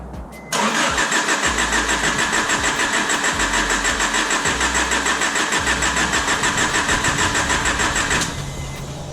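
A 1989 Honda Prelude 4WS engine cranks briefly, catches and starts, then runs at a steady, loud idle with a rhythmic pulse before dropping slightly at the end.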